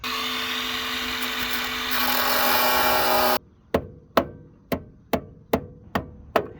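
Relief cuts sliced into the body sheet metal of a Nissan 240SX: a steady, loud grinding or cutting noise for about three seconds, then a run of seven sharp, evenly spaced metallic snips or taps, close up with no talking.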